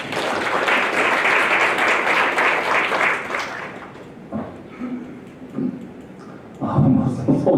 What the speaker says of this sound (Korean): 여러분, 박봉규 회장님께 큰 박수 부탁드립니다.